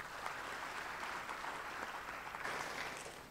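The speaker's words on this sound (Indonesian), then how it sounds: "Kita berikan tepuk tangan buat Tuhan." A church congregation claps for God during an Indonesian worship sermon, a dense, steady wash of many hands that stays loud throughout, with no voices over it.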